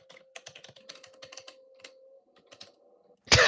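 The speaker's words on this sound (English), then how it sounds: "Typing." Close typing on a computer keyboard, a quick irregular run of clicking keystrokes with a short pause, then a louder burst at the end.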